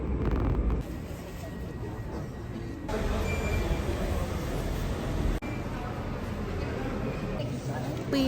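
A train ride from London to Windsor, with a steady low rumble of the carriage running throughout and voices talking over it, plus a brief jolt partway through.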